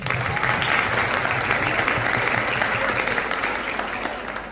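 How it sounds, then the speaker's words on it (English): Sustained applause from an audience seated in a university residence hall at a special evening gathering, steady dense clapping throughout, tapering slightly toward the end. "I also want you all to give yourselves a round of applause"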